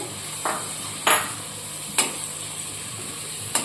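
Finely chopped large onion frying with garlic in a pan for an okra curry: a steady hiss of sizzling oil punctuated by a few sharp spatula clinks.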